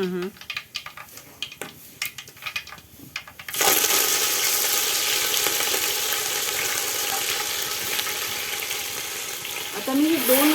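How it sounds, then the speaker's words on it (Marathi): Dry whole spices hit hot oil in a pan. After a few seconds of quieter kitchen noise and some voice, a sudden loud, bright sizzle erupts and holds steadily, swelling again near the end. "आधी मी कोरडा मसाला सगळा नुसता टाकतो म्हणजे तो तेलात छान तळला जातो"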